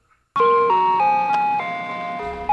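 An ice cream truck plays its jingle while driving through a neighborhood: a loud, close, bell-like electronic melody of stepped tones that starts abruptly after a brief silence and continues to the end.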